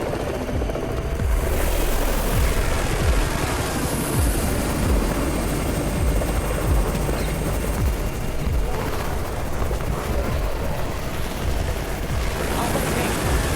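Loud, continuous rotor roar of a helicopter arriving in the game Undawn fills the scene, layered with rumbling explosions and gunfire-like bursts throughout.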